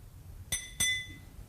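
Glass of water set on a lectern clinks twice in quick succession, two bright ringing taps with a short shimmering decay, close and clear in a quiet room.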